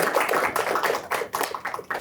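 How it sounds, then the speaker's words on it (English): An audience gives a round of applause at the close of a podcast talk on authentic leadership, a brisk, uneven patter of many hands clapping at moderate volume with no voices. "So let's give a round of applause"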